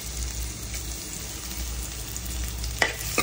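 Chopped garlic fries in hot oil in a home kitchen, giving a steady, close sizzle throughout, with a couple of brief stirring scrapes near the end.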